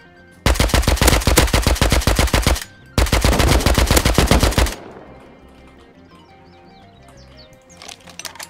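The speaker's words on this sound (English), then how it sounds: "I shot him three times." Automatic gunfire in the survival game Rust, two long, loud, rapid bursts of close shots with a short pause between them, then quieter game ambience with faint distant shots, no voices.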